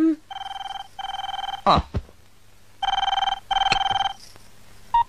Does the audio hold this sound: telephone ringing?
yes